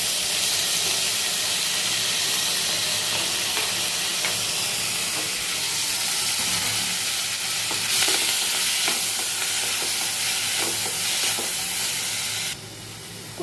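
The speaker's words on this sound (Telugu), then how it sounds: "కట్ చేసుకున్న కూరగాయలన్నీ వేసుకుంటున్నాను." Chopped vegetables fry in a spoonful of ghee in a pan with curry leaves, giving a steady, loud sizzle and hiss, with occasional stirring scrapes and crackles throughout.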